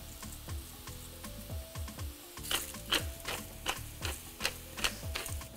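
Onions frying in a pan with salt and pepper, a soft steady sizzle with rhythmic stirring taps, under quiet background music.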